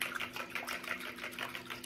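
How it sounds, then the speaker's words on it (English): A whisk beating reserved pineapple juice in a bowl, a quick steady rhythmic clatter of close, moderately quiet strokes with no talking. "I'm gonna go ahead and use my whisk."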